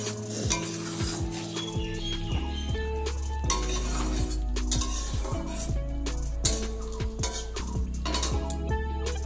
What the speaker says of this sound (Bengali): তো আমি পেস্টটা দিয়ে আস্তে আস্তে এটাকে নাড়াচাড়া করে সাথে মিক্স করে দেবো